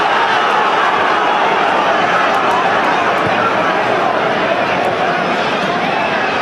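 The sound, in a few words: frustrated football stadium crowd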